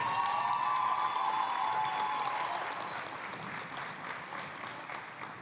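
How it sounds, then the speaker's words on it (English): Gym crowd applauding both the Brownsville Rivera and Harlingen South basketball teams at an award ceremony, with dense clapping and a few cheers and whistles at first, thinning gradually as the clapping fades. "a round of applause for both Brownsville Rivera and Harlingen South"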